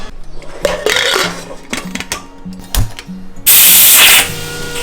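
Mutton cooks in a pressure cooker while clattering kitchen sounds and metallic taps come and go. Then a loud, steady burst of hissing steam rushes out for about a second before easing off.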